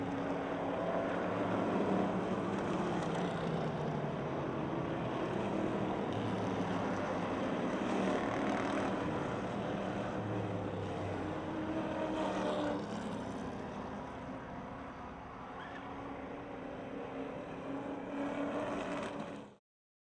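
Race cars circle the track at Motordrome Speedway, a loud, sustained engine roar that holds steady and then eases slightly toward the end before cutting off abruptly.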